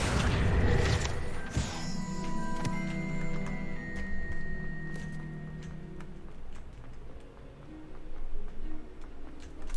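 A Confringo blasting spell goes off in Hogwarts Legacy, a sudden crash and boom followed by scattered ticking debris and ringing tones that slowly fade, with no voices over it.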